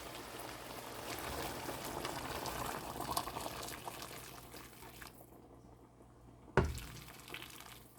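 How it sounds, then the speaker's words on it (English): Boiling hot water poured into a big soup pot of chicken, lemongrass, spices and vegetables, a steady rushing splash that builds, eases off, then ends with a sharp clunk. "I'll have to add my boiling hot water."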